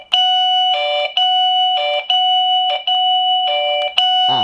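A loud electronic chime plays a repeating two-tone pattern, several bursts in a row with short gaps between them.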